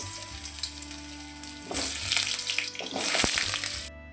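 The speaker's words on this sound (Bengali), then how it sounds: "কড়াইতে তেল গরম হয়ে গেছে, এবার আলুগুলো দিয়ে দেব তেলের মধ্যে।" Potatoes hitting hot oil in a kadai with mustard-oil-style cooking for an elephant-foot yam stalk dish, bursting into loud hissing sizzle in two strong surges after a quieter start, then cutting off abruptly.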